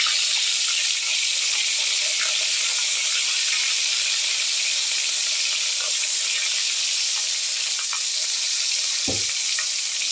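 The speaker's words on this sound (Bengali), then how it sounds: "এবার আমি এক এক করে মাছের পিসগুলো ভাজতে দিয়ে দিলাম।" Pieces of fish fry in hot oil salted in a wok, giving a steady, close sizzling hiss that continues evenly throughout.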